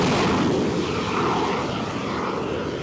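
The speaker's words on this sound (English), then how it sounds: "The Hornet was launched from the carrier, followed by the X-47B." Jet aircraft engine roar during carrier launch operations, with an X-47B stealth drone taking off after a Hornet from an aircraft carrier deck; a loud, steady broadband rush that fills the whole moment.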